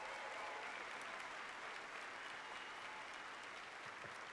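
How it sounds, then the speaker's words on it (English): A college commencement crowd claps in a faint, distant, even wash of applause that holds steady from start to finish with no voices on top. "Let's have a round of applause for them as well."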